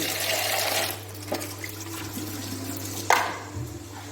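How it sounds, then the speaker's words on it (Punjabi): Cold water runs from a tap in a steady wash for about a second over Maggi noodles, then a softer trickle continues, with a brief splash and clatter near the end. "ਠੰਡੇ ਪਾਣੀ ਨਾਲ ਚੰਗੀ ਤਰ੍ਹਾਂ ਨੂੰ ਧੋ"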